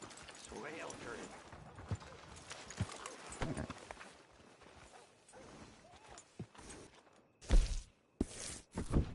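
Horse hooves clip-clopping in the Red Dead Redemption 2 video game, soft scattered steps under game dialogue and ambience, followed by a few louder bursts near the end.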